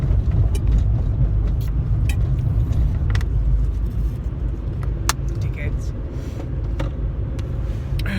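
Cars overtake on a two-way road with oncoming traffic, a steady rumble of passing vehicles heard from inside a car, with a person speaking over it.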